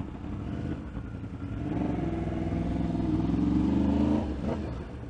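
Yamaha R1 and Kawasaki Ninja 1000 sport motorcycles riding together on a city street in the afternoon, engines droning steadily and swelling louder in the middle before easing off, heard close from the rider's position.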